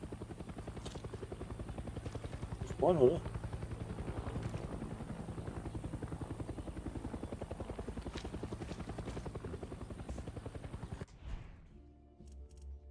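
A helicopter in Far Cry 6 thrums with a constant rapid rotor pulse throughout, loud and near, with a short spoken question early on before it cuts off.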